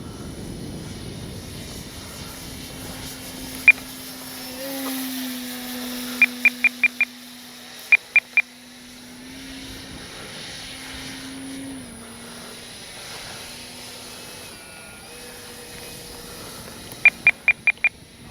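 An E-flite SNJ-5 Texan RC model airplane in flight, a faint steady electric motor whine that rises and falls as it passes, broken by several short sharp clicking beeps.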